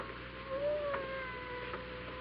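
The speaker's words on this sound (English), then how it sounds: "I hear a cat. He must be right in this room" A cat meows within an old radio mystery drama, a faint, brief wavering cry heard against steady background hiss, alone with no voices over it.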